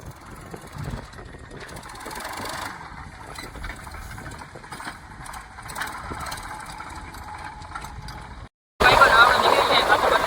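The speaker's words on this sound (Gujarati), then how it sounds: "આ તારું ટ્રેક્ટર આવી ગયું બસ" A tractor engine idles with a steady low chug, voices talking faintly nearby, then a brief cutout before louder running resumes.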